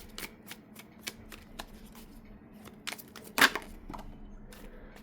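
Tarot cards are shuffled by hand, a run of crisp rapid flicks and riffles, close and clear, with one louder snap partway through.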